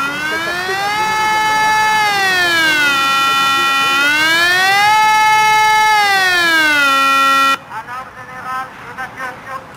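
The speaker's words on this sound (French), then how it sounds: "Il va déclencher les sirènes" A civil protection evacuation siren during an evacuation drill in Martigny, Switzerland, wails loudly in long rising and falling sweeps of a strong harmonic tone for about seven seconds, then cuts off, leaving faint background voices and ambient noise.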